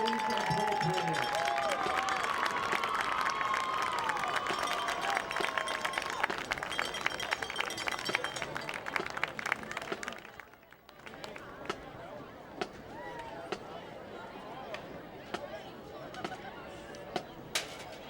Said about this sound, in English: A standing round of applause is appropriate.